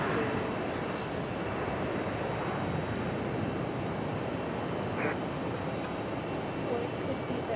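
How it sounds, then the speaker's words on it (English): United Airlines Embraer E175 jet at Raleigh-Durham International, giving a continuous broadband engine roar at steady loudness from start to finish. "I think this is United Airlines 6296 and E175 are headed to Houston"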